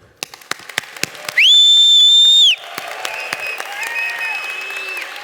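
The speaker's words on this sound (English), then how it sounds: "So please, join me and let's clap for each other." Conference audience at the TMRW event in Serbia bursts into applause, with sharp individual claps early and a loud, sustained piercing whistle in the middle, then continuing crowd clapping and cheering.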